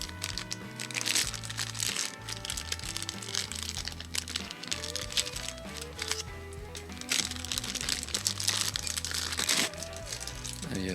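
A crinkly bag being handled and torn open to reach an sE 4400 microphone inside, a busy, continuous crackling and rustling that stays close and fairly loud throughout.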